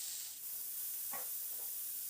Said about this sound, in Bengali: ফুলকপিগুলোকে তেলের মধ্যে ছেড়ে দিয়ে ফুলকপিগুলোকে বেশ লাল লাল করে ভেজে নেব